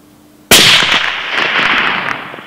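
A single loud, sharp long-range rifle shot fired at a target 1002 yards away cracks after a brief quiet moment, followed by a sustained rolling echo that fades gradually.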